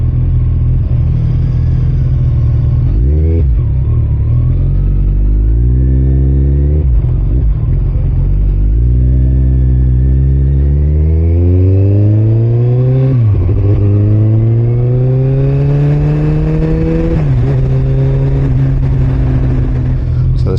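A Kawasaki Ninja ZX-14R inline-four motorcycle engine revs up close and loud several times, its pitch sweeping upward in long climbs and dropping back between each rev, with no talking.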